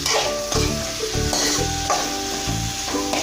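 Sliced onions and shallots sautéing together in hot oil for chicken curry. A loud, continuous sizzle is broken by regular rhythmic spatula scrapes and knocks against the pan, heard close up.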